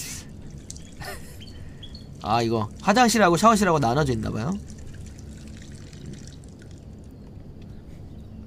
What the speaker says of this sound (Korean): 변기밖에 없어. 쉬 좀 할게요.